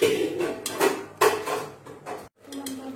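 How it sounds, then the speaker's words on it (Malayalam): A cooking pot of jackfruit curry is set down on a kitchen stove, giving several close metallic clanks and scrapes of cookware over about three seconds. "നമുക്കത് അടുപ്പത്ത് വെച്ചിട്ട് തേങ്ങ കൂട്ടാം"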